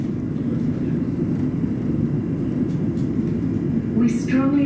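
A London Overground train runs toward Liverpool Street with a steady, loud rumble and hiss of the carriage in motion, a brief higher squeal rising near the end.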